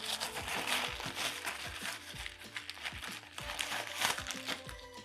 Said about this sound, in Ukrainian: давайте розпаковуємо останній пакет, але останні посилки